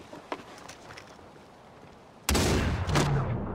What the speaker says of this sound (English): Oh, the fucking shotgun.